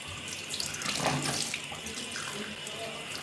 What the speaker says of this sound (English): there's water dripping all over the floor